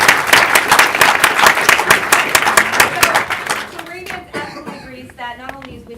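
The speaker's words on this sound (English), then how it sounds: "Big round of applause for Jameson, please." A crowd at a film screening Q&A bursts into brisk, loud applause with distinct individual claps, which thins out and fades toward the end as a few voices begin speaking.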